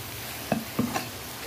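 Spices frying in hot oil for a Punjabi-style soya badi pulao, a soft steady sizzle with three quick stirring scrapes close by, no voices.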